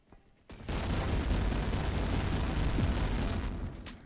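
Rapid automatic fire from an AA-12 shotgun in a video game: a dense, unbroken roar of blasts lasting over three seconds, loud and close, cutting off sharply at the end.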